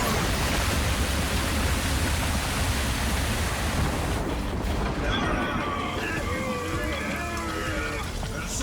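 A downpour water attack effect in a TOBOT cartoon fight: a loud, continuous rushing roar of falling water, later thinning as whistling tones and voices come through.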